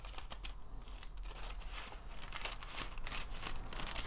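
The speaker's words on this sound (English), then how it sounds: "I am just going to trim that right off of here" Scissors snip and trim a sheet of decoupage paper in a crafting session, with a quiet, close series of crisp cuts and faint paper crinkles running steadily throughout.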